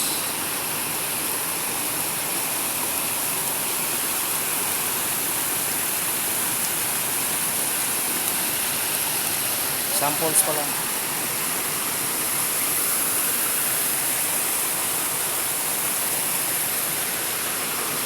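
A small waterfall flows at a river crossing on the way to a falls: steady broadband rushing water, close and continuous, with a brief voice speaking partway through.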